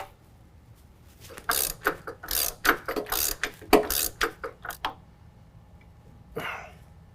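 A ratchet wrench breaks loose a bolt on the differential of a 2019 GMC Sierra 1500 truck during a lift kit install, giving a quick run of sharp close clicks for a few seconds, then a lone click after a pause.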